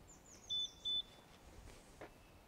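Two short, high electronic beeps from a Yamaha Tricity 300 scooter alarm in quick succession, faint and distant, followed by quiet ambient noise.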